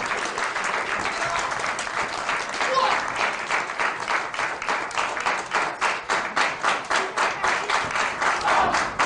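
Arena crowd at a CHIKARA wrestling event applauding steadily, dense rhythmic clapping throughout with a swelling surge midway, loud and close.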